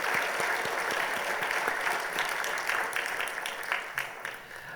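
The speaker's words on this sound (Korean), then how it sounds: "우리 오늘 청지기로 임명받는 분들을 위해서 우리 박수로 한번" A church congregation applauds newly appointed stewards in a full, sustained round of clapping with individual claps poking through, fading slightly toward the end.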